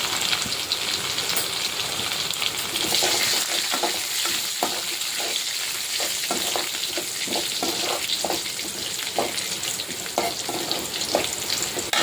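Garlic and cumin sizzling in oil in a pan, a steady crackling hiss with scattered pops and stirring scrapes that carries on evenly throughout, with no talking.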